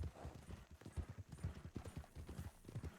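Horse hooves clip-clop in a steady, close trotting rhythm through the streets of St. Denis in Red Dead Redemption 2 online, with no other sound competing.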